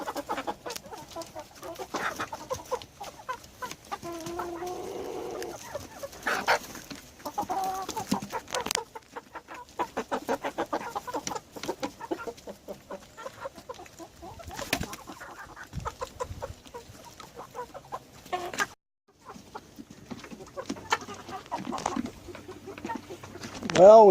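Chickens cluck and a rooster calls from inside a cheap plastic tub used as a waterer, with close, irregular bursts of clucking and scratching scattered through the stretch and a person talking in between.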